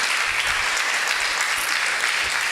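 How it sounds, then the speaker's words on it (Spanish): A congregation at a Spanish-language church service claps together in a dense, steady burst of applause that holds evenly for the whole stretch, with no voices rising above it. "Dale un fuerte aplauso al Señor por su amor y su misericordia."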